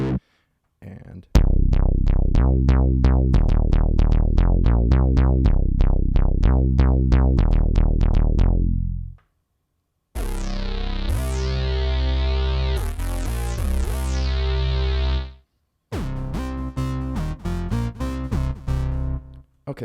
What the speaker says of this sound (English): the first one is kind of an acid style bass. It's not necessarily TB303, but it has some of those elements, and I throw some distortion on there